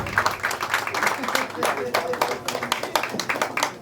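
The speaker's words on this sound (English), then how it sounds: "Please can you all give her a round of applause?" Guests at a 40th birthday party clap together in a dense, steady round of applause lasting throughout, with voices murmuring and calling out underneath.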